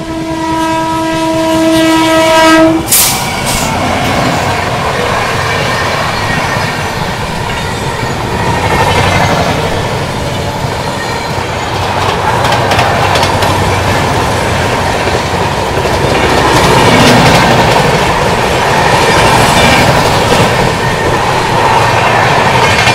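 Patna–New Delhi Amrit Bharat Express running at speed during a parallel overtake, with a loud horn blast at the start, then a steady roar of wheels and rail clatter throughout, close and continuous.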